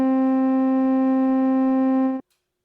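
A single steady steam whistle note from the Create mod in Minecraft, triggered from a MIDI keyboard, holds a clear harmonic-rich tone for about two seconds, then cuts off abruptly into silence.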